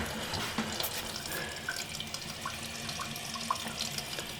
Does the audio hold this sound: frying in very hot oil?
no